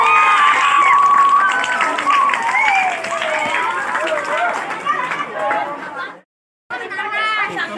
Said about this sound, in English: Clap hands